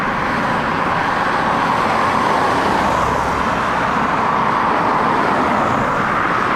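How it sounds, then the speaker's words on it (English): Road traffic streams past on a roadside in Simpang Renggam, Malaysia, a loud continuous wash of car and tyre noise heard up close, with no talking. "Cars are pretty noisy."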